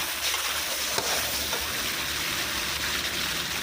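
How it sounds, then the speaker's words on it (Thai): Garlic with chili sauce and ketchup is stir-fried in a pan, giving a continuous close sizzle and bubbling hiss with faint stirring scrapes. "ใส่ ซอสพริกกับซอสมะเขือเทศลงไปนะคะ อันนี้ที่การใส่ผสมผสมไว้แล้วนะคะอย่างละครึ่งนะคะ เพื่อนๆลงไปผัดเลยค่ะ"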